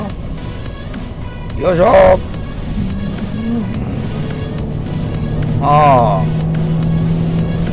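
Car on Kumho Solus 4S HA32 all-season tires cruising through a lane change, steady road and engine rumble from inside the cabin with a voice speaking briefly over it.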